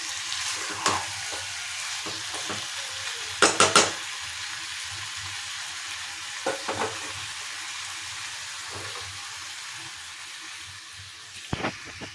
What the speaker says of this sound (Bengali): এইবার ম্যারিনেট করা মাংসটা দিয়ে দেব এটা দিয়ে দিলাম ভালো করে নাড়িয়ে নিয়ে